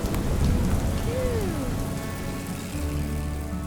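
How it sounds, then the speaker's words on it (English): Heavy rainy-season rain pours steadily in Zambia, a dense close hiss, with a low rumble of thunder rolling underneath and a brief rising whine partway through. "Well, it's rainy season here in Zambia."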